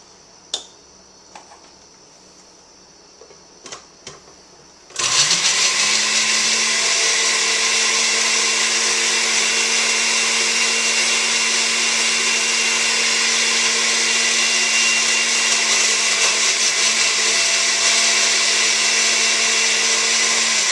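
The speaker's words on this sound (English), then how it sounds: "you're just going to put them in the blender and puree them just a little bit at a time" A kitchen blender purees peppers for hot sauce: a few soft clicks and taps as it is loaded, then the motor kicks on abruptly and runs as a loud, steady high whine with a churning hum for the rest of the time.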